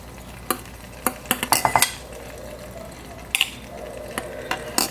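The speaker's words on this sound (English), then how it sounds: "Now what I do is I take it and you skim off the top." A spoon scrapes and clinks in a pan of melting butter as it is skimmed for clarified butter, with a run of sharp metallic taps, scrapes, a brief pause and a few more clicks over a faint simmer.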